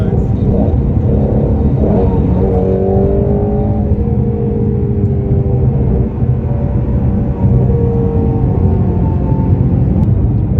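Steady low engine rumble from a C6 Chevrolet Corvette idling nearby, with a few brief rising revs over constant background noise.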